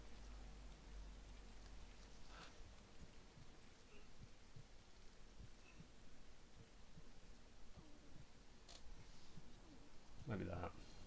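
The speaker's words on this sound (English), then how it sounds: "Just wait out the rain." Steady, faint rainfall patters in the video game Death Stranding, a soft continuous hiss with scattered drops and a brief rustle near the end, no voices.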